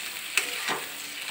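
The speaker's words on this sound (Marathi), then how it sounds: "उकडलेला बटाटा बारीक कट करून बटाटा घातला। नंतर तो फ्राय केला चांगला।" Faint sizzling rises from boiled, finely chopped potato frying in a pan, with a couple of soft stirring scrapes standing out against the low, steady hiss.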